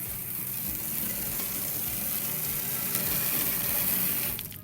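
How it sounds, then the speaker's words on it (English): Plain water sprays from a hose sprayer nozzle onto a window, a dense, steady hissing rush that holds loud and unbroken, then tails off briefly at the very end. "The center setting will shoot just water."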